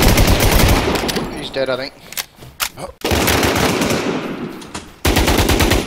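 Rapid, loud automatic gunfire bursts from the online survival shooter Infestation: The War Z come in close succession, with a few sharp single shots, while a player talks excitedly over the action.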